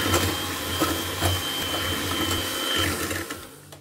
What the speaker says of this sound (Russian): добавляем масло размягченное и начинаем взбивать миксером